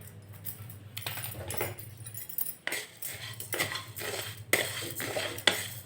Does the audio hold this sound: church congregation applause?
no